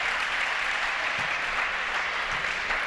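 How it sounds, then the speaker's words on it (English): A crowd applauds at a girls' high school basketball game as a player leaves the court. The clapping is continuous and even throughout, a broad wash of hands in a gym with no talk over it. "gets a nice round of applause"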